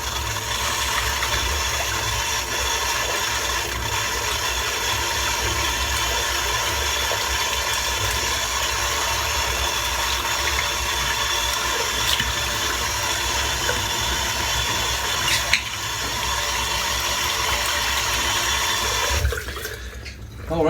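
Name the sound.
water running while rinsing out a shaving soap tin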